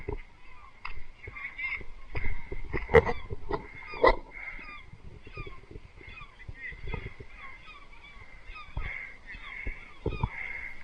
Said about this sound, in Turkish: Rahat bir yüz, yüzden fazla martı var burada hala.